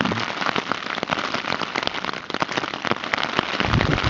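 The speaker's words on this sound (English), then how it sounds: "Lots of rain." Heavy rain drums on a camping tent at night on Telescope Peak, a dense, continuous close patter with sharp individual drop hits, loud and steady with no voices.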